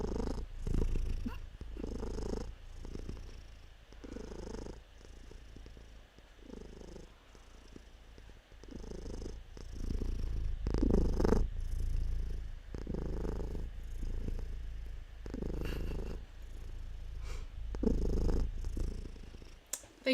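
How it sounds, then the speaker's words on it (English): A house cat purring loudly and steadily up close, a continuous rumbling rhythm of in-and-out breaths with no talking over it. "let's just like take a moment to listen to the preciousness that is my cat"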